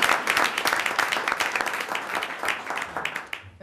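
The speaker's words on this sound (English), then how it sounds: "We should probably give him a round of applause." Scattered clapping breaks out among attendees at a college board of trustees meeting, a brief, fairly close burst of individual claps that thins toward the end.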